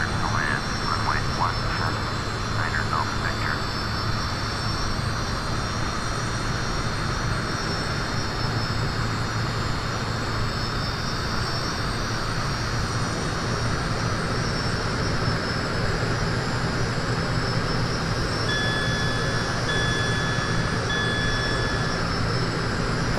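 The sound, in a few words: airplane engine on landing approach, likely flight simulator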